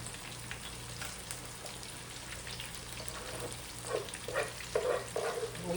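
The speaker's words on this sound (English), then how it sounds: "Go ahead and put the pasta in the pan." Pasta hits a hot pan and is stirred, a soft continuous sizzle with scraping and clinking that grows busier and louder toward the end over a low steady hum.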